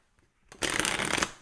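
A tarot deck is cut and shuffled in one quick, close riffle of cards that lasts under a second after a brief quiet lead-in.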